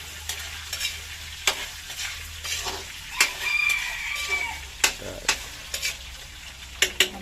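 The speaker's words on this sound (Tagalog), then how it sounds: "Browning muna natin." Chicken browns in a frying pan, a steady close sizzle broken by repeated sharp scraping stirs and clatters, with no talking over it.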